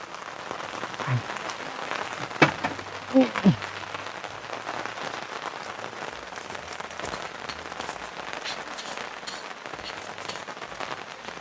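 Steady rain falls and patters on surfaces in a continuous hiss, with a few louder knocks and taps early on.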